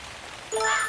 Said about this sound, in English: The rain has found me again.